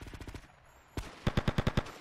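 Gunfire in the game GTA Sindacco Chronicles: a burst of rapid shots, a pause, a single sharp blast, then a run of six evenly spaced loud shots close up.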